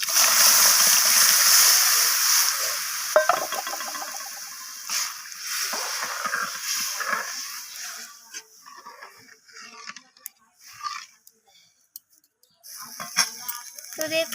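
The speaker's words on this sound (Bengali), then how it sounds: "তো এরপর আমি এখানে যে ডালনাটা আমি পাত্রে ঢেলে রেখেছি, সেই ডালনাটা এখানে ঢেলে দিলাম" Lentil dalna stew poured from a holding vessel into a cooking pan, a wet splashing pour that is loudest at first, then settles into scattered soft splatters and sizzles with a few quiet clinks.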